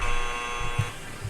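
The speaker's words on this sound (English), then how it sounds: "you guys got your buzzer out and ready to go?" A harsh electronic game-show buzzer sounds at close range, with a steady droning tone and no speech.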